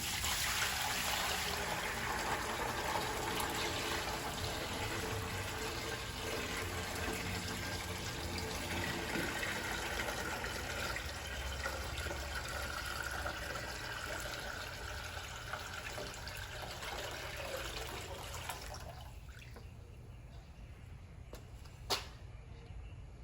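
Water pours steadily into a homemade coolant tank for a Tormach 440 mill stand, a continuous close splashing fill that runs for most of the stretch before cutting off, leaving near quiet with a small knock.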